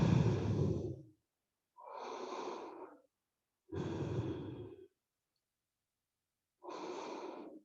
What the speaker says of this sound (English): take a neutral breath here